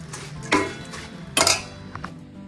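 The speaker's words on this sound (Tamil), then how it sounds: "பாகு ஊற்றி லேசாக சூடாக இருக்கும்போதே இந்த மாதிரி கிளறி எடுத்துக்கணும்" A sweet syrup mixture for Karthigai pori is stirred in a pan, producing soft scraping with two sharper metallic clinks of utensil against the pan and a fainter knock near the end, close and alone.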